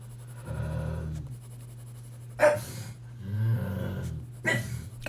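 Indoors, a dog gives low growls and a couple of short, sharp barks, fairly close, with quiet pauses between them.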